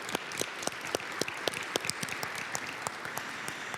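Applause from a small audience at an OAS policy roundtable: sparse, uneven hand claps with distinct individual slaps over a quiet room, moderately faint and continuous for a few seconds.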